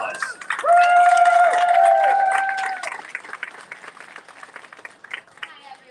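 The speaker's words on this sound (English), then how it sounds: "So a round of applause." An outdoor walk crowd claps and cheers loudly for a few seconds, the applause gradually thinning out into scattered claps.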